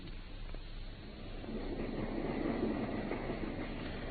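A train rolls along the rails in a steady, continuous low rumble that swells slightly midway, with no voices over it, used as a sound effect in an old-fashioned Sherlock Holmes audio drama.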